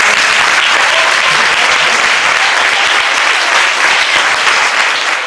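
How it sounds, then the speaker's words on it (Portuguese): Audience applause at a church Christmas play, a dense, loud, sustained wash of clapping that continues steadily without a break. "Que a gente pode aplaudir o Senhor Jesus pela vida deles."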